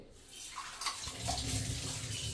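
Running water pours steadily from a tap while lemongrass is washed, a soft continuous splashing that grows a little louder after the first second.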